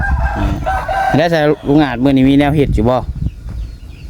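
A rooster crows loudly and close by in a rural Thai farmyard, with hens clucking around it, the long wavering calls rising over someone talking.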